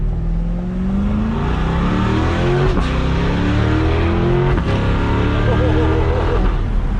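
C8 Corvette with an aftermarket exhaust accelerating hard in first gear, a loud, close engine note climbing steadily in pitch with brief shift breaks, continuous and dominant throughout.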